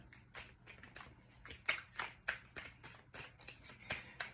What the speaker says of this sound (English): So I'm going to shuffle. I'm going to pull some cards and clarify each section.